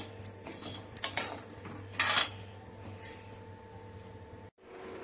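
Broken wheat (daliya) being roasted in a pan at home, with a spoon or spatula scraping and clinking against the metal in short irregular bursts over a steady low hum, no talking.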